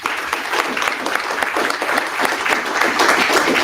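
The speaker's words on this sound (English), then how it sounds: "Let's give him a round of applause." Lively audience applause greets a speaker at a Baltimore community event, with dense, close clapping that grows slightly louder toward the end.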